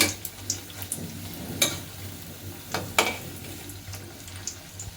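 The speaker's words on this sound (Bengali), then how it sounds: "বেগুনের চপগুলো একটু লাল লাল করে ভেজে নেব, তাহলে খাইতে ভালো লাগবে।" Eggplant chops (begun chop) fry in hot oil with a soft, continuous bubbling sizzle, broken by a few sharp spattering pops and clinks, and no talking.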